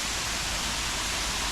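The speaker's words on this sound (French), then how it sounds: "Et là on arrive à la cascade." Continuous broadband rush of a waterfall in a water garden, close and steady for the whole moment with no voices.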